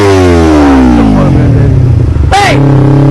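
A motorcycle engine revs loudly and close by, pitch sliding down as it eases off, then a brief sharp burst near the end as a voice shouts over it.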